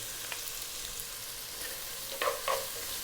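Vegetables with garlic and ginger sizzle and fry in a pot on high heat, a constant hiss broken by a few scraping stirs near the end.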